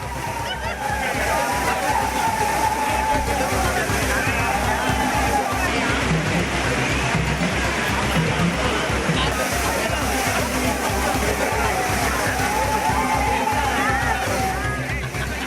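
Crowds of tourists at the Kutralam waterfalls in Tenkasi district: a steady, loud roar of falling water and splashing fills the whole stretch, with a dense murmur of many voices and shouts mixed in.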